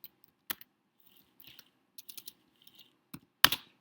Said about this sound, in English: Again, I'm having extreme trouble typing.